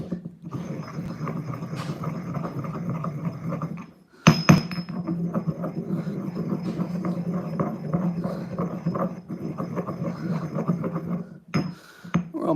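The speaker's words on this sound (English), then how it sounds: "Making thermite, grinding up aluminum powder first" Aluminum powder is ground by hand for homemade thermite, giving a steady gritty, scraping rasp with sharp metallic clinks, close and continuous apart from a brief pause and a louder clatter near the middle.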